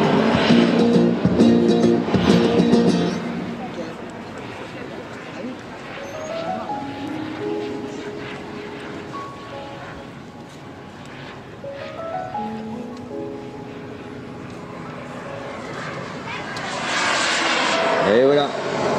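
A Mirage 2000 or Rafale fighter jet performs at an air show, its engine roaring loudly and steadily, with the pitch sweeping up and down as it passes; a commentator talks over the jet noise.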